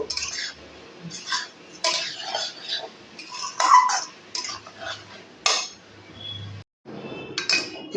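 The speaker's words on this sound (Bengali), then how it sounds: "দিয়ে ভালো করে আবারও নেড়ে চেড়ে দেব" Carrot laddu mixture of grated carrot and sugar being stirred in a pan, a run of close scraping and clattering knocks of a spoon against metal in irregular bursts, with brief pauses and no talk.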